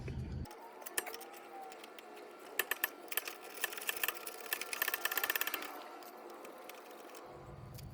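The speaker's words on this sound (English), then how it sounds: "So you throw your 18 mil wrench onto your nut here, and your 6 mil into the end of the stud and loosen." Metal wrenches, an 18 mm and a 6 mm, loosening the stabilizer link nut on a Chevy Equinox, giving a run of quick close metallic clicks and ratcheting taps that peak mid-clip, with no talking.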